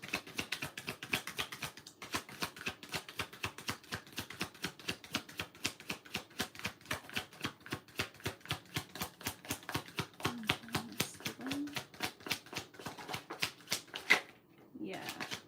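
Rapid, steady riffling of a tarot card deck being shuffled, a dense run of crisp clicks over about fifteen seconds, with brief murmured voice underneath near the end.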